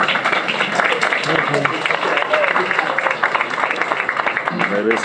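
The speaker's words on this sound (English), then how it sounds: "Please give the candidates a round of applause" Audience applause for the candidates at a Cleveland City Council Ward 1 candidate forum, moderate clapping from a crowd running under and alongside people talking and murmuring nearby.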